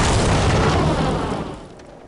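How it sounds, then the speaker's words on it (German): A loud explosion in the World War II shooter Medal of Honor Airborne, a heavy booming burst with a rumbling tail that fades over about two seconds, with no talking over it. "Schöne Explosion."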